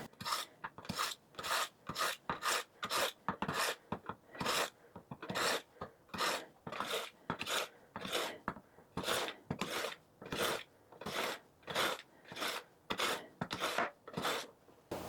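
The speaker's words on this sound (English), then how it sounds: "first thing I'm going to do is sharpen my knife" A kitchen knife is sharpened with steady back-and-forth rasping strokes, roughly two per second, each a bright gritty scrape, close and alone without talk.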